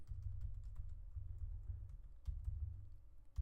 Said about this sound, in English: So I got to go here and go ahead and type these out.